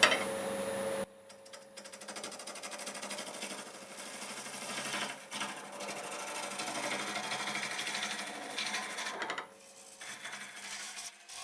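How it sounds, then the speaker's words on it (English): A spindle roughing gouge for wood turning is resharpened on a grinder: a steady, close, buzzing grind runs almost the whole time, with brief breaks as the tool is lifted and set back to the wheel. "I'm just resharpening my spindle roughing gouge."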